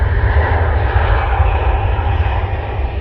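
An Airbus A340 airliner at Manchester Airport roars steadily with a loud, continuous engine rumble, heard from a nearby viewing park with no talking.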